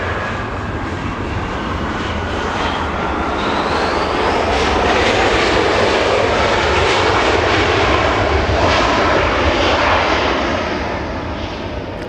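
An EVA Air Boeing 777 in Star Alliance livery arrives at Los Angeles International Airport, its engines a loud, continuous, close roar that holds steady and swells slightly midway, with no talk.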